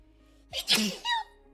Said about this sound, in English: I sneezed right in y'all's ear.